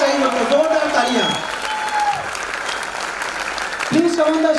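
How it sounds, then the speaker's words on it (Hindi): An audience at an achievers recognition ceremony in Indore claps loudly and steadily for an award winner called to the stage, while a voice speaks over the applause. "एक बार जोरदार तालियां उनकी स्टेज पे होना चाहिए, जोरदार तालियां"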